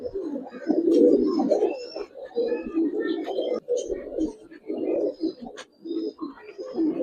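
Pigeons coo repeatedly inside a loft, a run of low throaty pulses close by with brief gaps between phrases and a few higher chirps mixed in.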